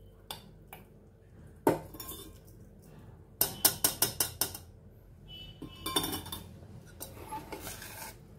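A spoon stirs cooked, lightly mashed moong dal after jaggery water is poured into the pot, giving scattered metallic clinks and scrapes with a quick run of sharp taps in the middle, close and fairly quiet, with no talking.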